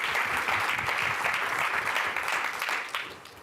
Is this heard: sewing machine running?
no